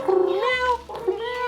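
A pet cat meows twice, close and clear, with drawn-out rising and falling cries and a short break between them; no one talks.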